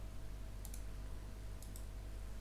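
A computer mouse clicks twice, each a quick double-click, quiet and close over a low steady hum, with no talking.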